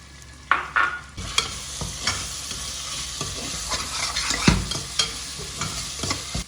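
Tomatoes and mint sautéing in a pan for salna give off a steady sizzle, broken by a few sharp scrapes and clinks as a spoon stirs the mix, with no talking.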